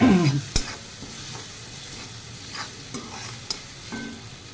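Onion-garlic chutney dropping into hot oil with a brief sharp sizzle, then a low steady frying hiss broken by a few scraping stirs of a spoon against the pan, close and without talk.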